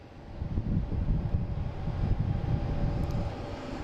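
An Air Canada Embraer E175 jet, flight 8695 bound for Toronto, rumbles at Boston Logan airport, its engine noise rising quickly and holding as a loud, low roar.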